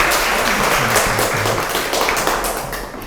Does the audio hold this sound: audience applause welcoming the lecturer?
yes